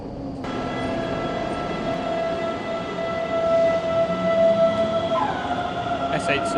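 A Munich S-Bahn train runs with a steady rumble and sustained electric motor whine, tones shifting as it changes speed, while a recorded voice speaks over it.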